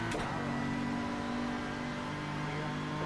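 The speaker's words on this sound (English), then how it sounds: "Random upshift, rogue upshift." In the iRacing sim, a race car at Daytona during a 24-hour race makes an abrupt unexpected upshift: a sharp brief change in engine pitch at the start, then a sustained high engine note, heard quietly.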